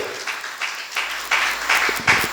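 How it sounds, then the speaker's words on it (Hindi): A church congregation claps in a worship service, the applause building from scattered hands into louder, denser bursts of many people clapping, with a low hum underneath. "ताली बजाओ जोर से।"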